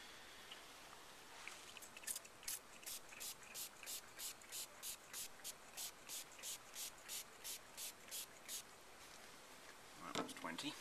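A pump sprayer hisses in a steady rhythm on a beehive, about twenty short even bursts one after another, close up, with a brief rustle at the end.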